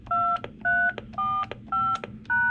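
Five short telephone keypad DTMF tones beep one after another at an even pace, entering a security code on a highway advisory radio recorder's phone line, clear and alone.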